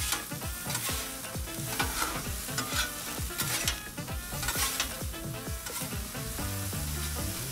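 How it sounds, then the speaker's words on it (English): Vegetables for chicken fried rice stirred with a spatula on a 22-inch Blackstone griddle, close, steady sizzling under repeated metallic scrapes and taps in an uneven rhythm, with no talk. "So we stir them around."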